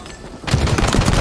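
A sudden burst of rapid video-game gunfire fills the last half of the moment after near quiet, loud and dense like a fusillade of overlapping shots.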